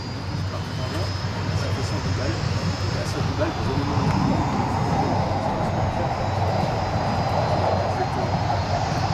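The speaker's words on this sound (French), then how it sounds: "À présent, la patrouille revient sur votre gauche." Steady roar of aerobatic patrol jets flying past at an air base open day, a continuous loud engine wash filling the whole stretch, with an announcer speaking over it.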